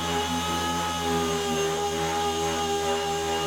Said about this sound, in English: The sander is predictable to use.